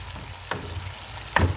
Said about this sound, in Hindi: मैं चिकन को फ्राई करूँगी